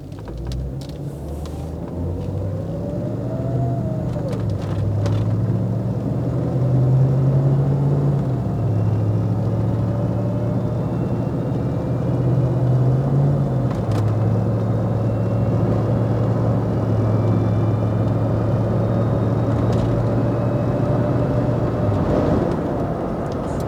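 A 1995 Range Rover SUV engine runs steadily for over twenty seconds, its low hum shifting pitch in steps as it changes gears, with road rumble throughout.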